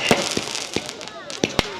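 Firecrackers burst in sharp, irregular pops, several close together, over a busy background of voices and crowd noise.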